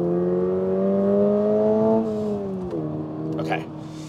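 A 2023 Toyota GR86 with a 6-speed manual accelerates hard, its engine note climbing steadily in pitch, then dropping at a gear change before pulling again, heard from inside the cabin with a voice speaking over it.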